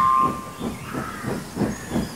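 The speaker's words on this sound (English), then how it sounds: "And James puffed away" A steam engine puffs away in a rhythmic series of chuffs, about four evenly spaced exhausts over a soft hiss, with a brief whistle tone at the start, fairly loud and close.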